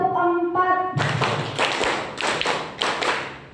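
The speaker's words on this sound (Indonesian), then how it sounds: "Tepuk 5, tepuk 3, 2 kali tepuk 4" A group claps in a counted pattern at a positive-culture school session at SMPN 4 Adiwerna, loud nearby claps arriving in quick bunches after a sung or hummed tonal intro at the start.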